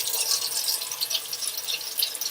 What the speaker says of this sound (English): Let's begin by turning on the water.